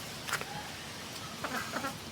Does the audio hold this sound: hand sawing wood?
no